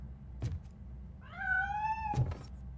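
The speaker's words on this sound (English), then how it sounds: "Гребаный кошак." In the RoboCop: Rogue City video game, a cat gives one clear, rising-then-falling meow up close, bracketed by two dull knocks or thuds.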